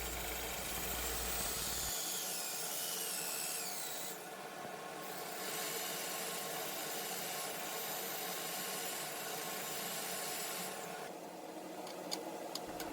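Maple wood being sanded on a spinning lathe gives a faint, continuous rubbing hiss over a low motor hum, with brief louder scratchy bursts.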